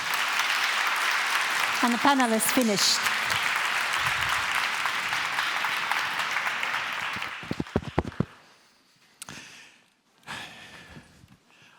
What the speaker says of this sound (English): And now, one big applause for all of our panelists.